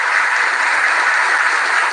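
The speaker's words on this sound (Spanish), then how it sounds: "Un aplauso lo que venía ahí." Dense, steady applause from a studio audience fills a short stretch on a Cuban talk show, loud and continuous with no voices over it.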